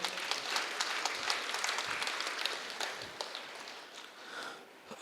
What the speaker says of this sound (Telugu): ఒకసారి రాము గారి కోసం గట్టి క్లాప్స్ కొడదాం.